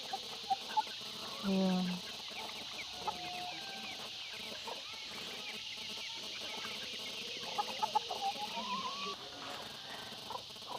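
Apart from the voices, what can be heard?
chickens clucking on a farm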